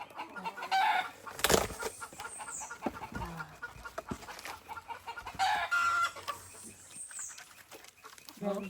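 Backyard chickens cluck and a rooster crows in a series of nearby calls, with a few brief sharp bursts and rustling around them while cats are being fed by a dumpster.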